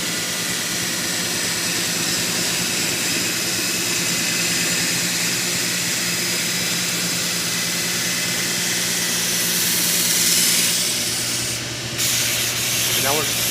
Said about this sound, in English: This is where we're actually grinding the radius.